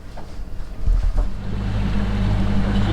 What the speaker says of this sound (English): we're just about to get going, get engine started and